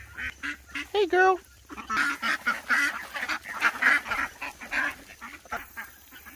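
Ducks in a garden coop quack in loud, choppy bursts close by, one harsh honking call standing out early and then a busy run of overlapping quacks and chatters, with a person's voice briefly mixed in.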